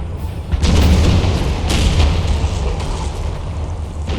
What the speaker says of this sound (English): Still have the artillery duel going on.